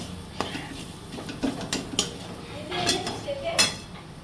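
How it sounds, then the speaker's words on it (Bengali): A utensil scrapes and clinks against a pan as spice paste is stirred with chingri prawns for potol dorma, irregular close knocks and scrapes over a faint background, no clear talking. "এবার আমি মশলাটাকে ভালো করে সাথে মিশিয়ে নেব।"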